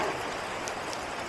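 Steady rain hissing down during a long-distance Audax road bike ride in hot weather, a continuous broadband wash with no voices over it.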